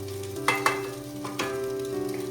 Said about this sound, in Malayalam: ചോറ് ഇളക്കാതെ ഇങ്ങനെ പാത്രം തന്നെ ഇങ്ങനെ കുടയും